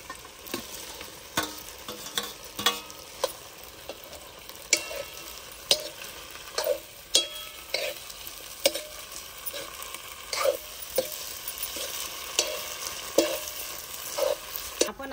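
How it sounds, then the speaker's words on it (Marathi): Deep-fried eggs are tossed in a sizzling egg chilli sauce with tomato sauce. A constant frying hiss is broken by sharp, regular scrapes and knocks of a spoon stirring against the pan. "आपण आता डीप फ्राय केलेले अंडे टाकून घेऊ."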